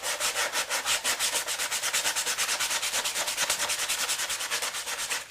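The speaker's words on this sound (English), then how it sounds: "You can lightly sand it in between layers" Old 120-grit sandpaper lightly sands a white styrofoam coating between layers, a close, rhythmic back-and-forth rasp of about eight quick strokes per second that continues evenly throughout, with no talking.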